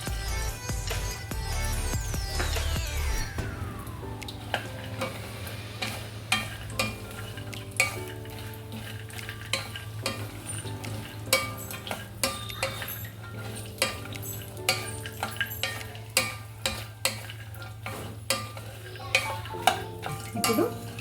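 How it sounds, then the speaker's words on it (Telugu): Pistachios fry in a pan with a low steady sizzle under repeated clinks and scrapes of a spoon stirring against the metal. "ఇప్పుడు పిస్తా కూడా ఫ్రై అయిందండి."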